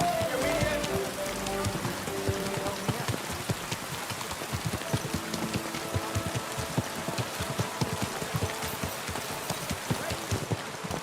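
Rain falling in the video game Kingdom Come Deliverance 2, a dense patter on surfaces with clip-clopping horse hooves mixed in, steady and close throughout.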